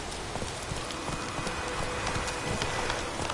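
Hooves of Roach, Geralt's horse in The Witcher 3: a steady clip-clop of trotting against a hissing, rain-like background, moderately loud and even, with no talking.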